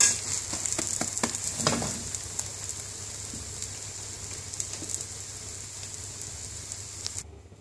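A Bengali-style omelette frying in a pan, with a steady close sizzle and crackle, a louder burst of spitting early on, then a quieter hiss that cuts off abruptly at the end.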